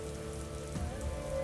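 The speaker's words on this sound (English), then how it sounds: "the rains can come very hard and very fast" Heavy storm rain pours down steadily, a dense continuous hiss of drops lashing surfaces, loud and close with no pauses or voices.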